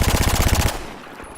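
Rapid automatic gunfire from a video game shooter, fired while pulling the mouse down to control recoil: a loud, fast burst of evenly spaced shots for under a second, then a quickly fading tail.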